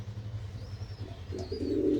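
Domestic pigeons coo softly inside a home loft, low throaty murmurs running continuously and swelling slightly toward the end, close and alone with no talk.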